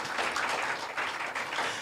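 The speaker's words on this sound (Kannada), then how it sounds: "ಇನ್ನೊಂದು ಚಪ್ಪಾಳೆ ತಟ್ರಿ ಅವ್ರಿಗೆ" Brief burst of audience applause in a church, a dense patter of clapping lasting under two seconds at moderate volume.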